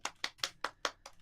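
Applause from a small live stream Q&A audience at night: about six sharp claps in steady rhythm over a second, fairly close and moderately loud with no voices.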